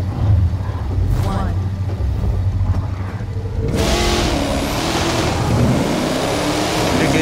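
In The Crew 2 video game, a Ford Mustang's engine revs and surges as a race starts, a loud continuous roar that swells midway, with game talk running underneath.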